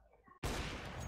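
A pump shotgun fires once in Counter-Strike, a single loud, sharp blast that cuts in abruptly after a moment of quiet game background.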